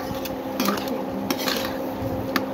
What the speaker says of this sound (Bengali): এখন জিনিসটাকে আমরা 5-6 মিনিটের জন্য নেড়ে চেড়ে নিছি।